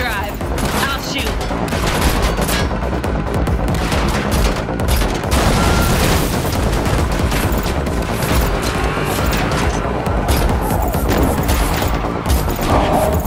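Sustained gunfire in The Matrix Awakens, an Unreal Engine 5 game on PS5, fills the clip: loud rapid bursts and booms during a driving chase, with voices mixed in under the shooting.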